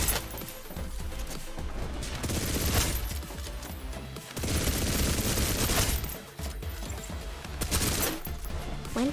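Dense gunfire in the shooter Snowbreak: Containment Zone: continuous loud bursts and volleys with crashes and booms, lasting several seconds and dipping only briefly between waves.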